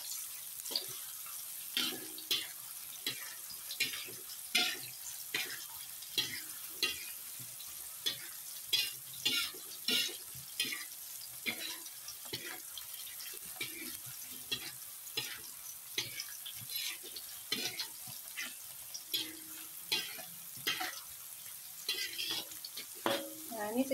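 Tempe gembus stirred and frying in teriyaki sauce in a pan, with soft intermittent sizzling and repeated scraping stir strokes at close range, steady and unhurried throughout.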